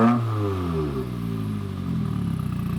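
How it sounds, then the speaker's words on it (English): A 2015 Subaru WRX with a Grimmspeed J-pipe revs up, its engine note climbing steadily in pitch over a few seconds, close and loud with no voices. "Give it a rev."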